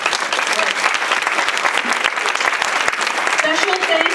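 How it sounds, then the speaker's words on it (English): Sustained audience applause at a community conversation event honoring MLK, steady and fairly loud throughout, with scattered voices cheering and talking over the clapping near the end. "Please wave so everyone can applaud you."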